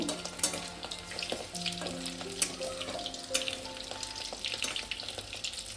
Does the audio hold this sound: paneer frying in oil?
yes